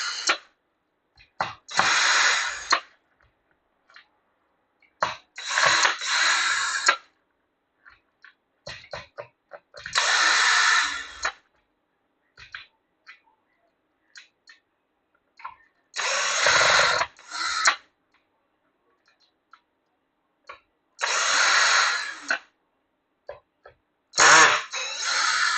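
A power drill loosens screws on a Traxxas RC car in repeated short whirring bursts, each a second or two long with quiet gaps between, loud and close, with brief clicks between runs.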